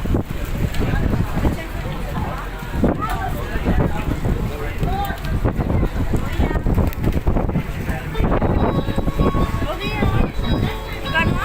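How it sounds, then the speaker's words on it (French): Strong wind buffets the microphone beside the Sea of Galilee in Israel, a steady loud roar of gusts running the whole time, with people talking underneath. "y a trop de vent"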